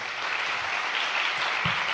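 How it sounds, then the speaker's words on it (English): An audience at a Veritas Forum event at CNU claps in a dense, sustained round of applause that fills the room, with no voices standing out. "would you give these guys another round of applause?"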